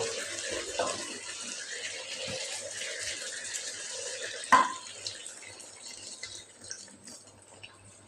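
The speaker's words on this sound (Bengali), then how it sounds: "আমার কষানো শেষ এখন আমি পানি দিয়ে দিব" Water is poured into a cooking pot of simmering tomato and spice mixture, a steady soft splashing stream over several seconds with a brief clank partway through.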